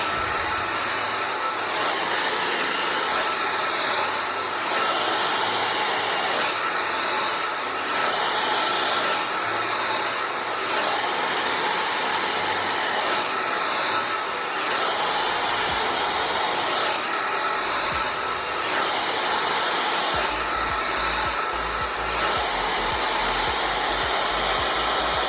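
A blow dryer drying hair over a round brush hums loudly and steadily at close range, its airflow pulsing slightly as the brush and dryer shift position.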